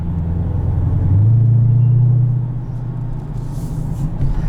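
A 2020 Dodge Challenger Hellcat with an automatic gearbox, rolling onto power at part throttle, gives a deep engine drone that swells loudly for a second or two then eases back, heard from inside the cabin.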